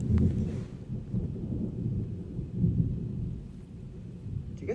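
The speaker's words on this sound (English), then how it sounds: "Do you guys hear how bad this lightning is?" Low rumbling thunder from a lightning storm outside, a steady heavy roll with a swell partway through, heard from indoors without talk.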